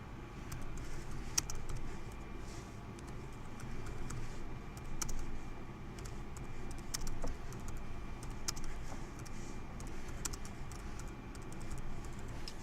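Names typed on a computer keyboard: quiet, close, irregular clicks of keys in quick bursts with small pauses, over a low steady room hum.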